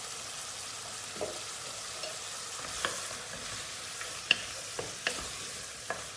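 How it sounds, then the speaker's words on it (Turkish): Red pepper and then tomato sautéing in a pan for a rice pilaf with beans, a steady soft sizzle broken by a few sharp clicks of stirring, close and alone without talk. "Ortalama bir dakika kadar da kırmızı biberle bir kavuracağız."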